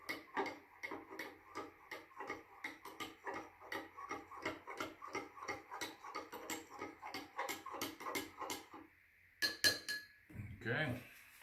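Spoon stirring hot cocoa mix from a French MRE, making rapid rhythmic clinks against the cup for about nine seconds, then a few louder knocks and a scrape. The sound is close and fairly quiet.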